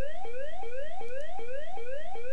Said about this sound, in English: that annoying sound indicates the alarm is going off